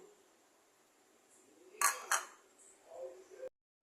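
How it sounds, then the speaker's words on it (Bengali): Metal spoon clinking against a bowl while mixing grated coconut, sugar and milk powder, with a couple of sharp knocks in the middle and softer scraping around them, quiet and close, then cutting off to silence. "এবারে আমি আরও একবার এটা ভালো করে মিক্স করব।"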